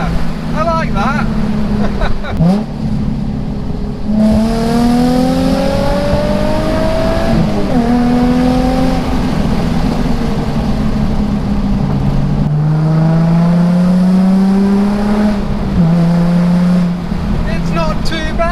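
A remapped Nissan 350Z engine revs repeatedly while driving, its note rising and falling through gear changes. The engine is loud and close, and someone talks over it at times.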